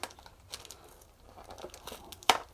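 A small taped-up plastic accessory bag from a Bachmann ZDO model box is handled and pulled open, soft crinkling and rustling with scattered quiet crackles and one sharper tearing snap near the end, close and faint, no speech.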